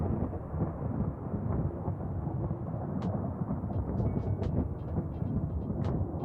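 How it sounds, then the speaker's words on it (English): Rolling thunder from a lightning storm on a fiery planet in a video game rumbles as a loud, continuous low roar, with a few sharp crackles breaking through near the end. "Love that rolling thunder noise."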